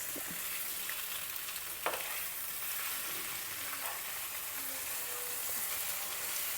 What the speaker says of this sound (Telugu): ఆ గ్రేవీ అంతా చేప ముక్కలకి పట్టేలాగా వేయించుకోవాలి